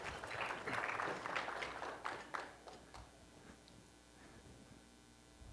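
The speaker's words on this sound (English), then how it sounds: "So a big round of applause for Joe." An audience at a data and programmatic advertising industry summit in Lake Tahoe applauds a presenter taking the stage, a dense round of clapping that peaks early and then fades to scattered claps over a low room hum.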